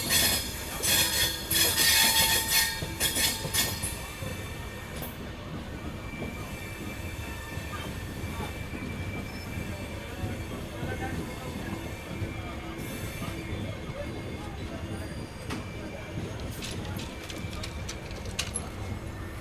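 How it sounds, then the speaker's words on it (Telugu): The Saptagiri Express passenger train from Tirupati to Chennai Central rolls past with a rumbling rattle of wagons and intermittent wheel squeals, while birds call faintly in the background. "ఇప్పుడు ఈ ట్రైన్ చూస్తున్నారా, తిరుపతి నుండి ఎంజీఆర్ చెన్నై సెంట్రల్ వెళ్ళే"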